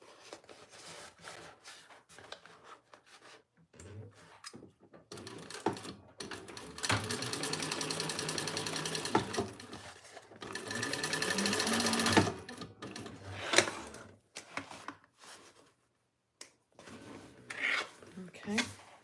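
A sewing machine stitches through cork fabric for a bag in several runs of steady mechanical whirring, with pauses and handling noise between them while a person talks.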